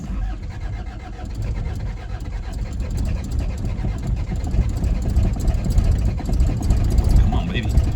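Diesel engine of a 1981 Isuzu Pup cranking through a hard cold start, a steady low churning rumble that builds slightly in loudness over several seconds, close by, with a voice talking over it.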